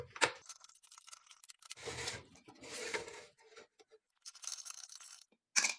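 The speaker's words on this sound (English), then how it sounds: "Now I will unscrew the rest of the screws left." A screwdriver works screws loose from the metal chimney of a tankless water heater being torn down, giving scraping, grinding bursts in several separate stretches with short silences between them and a sharp clink near the end, close by.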